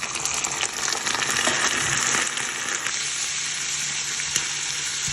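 Liver fries in a pan with onions for a spicy Jaffna-style curry, producing a loud, dense, continuous sizzle with occasional stirring clinks and no speech.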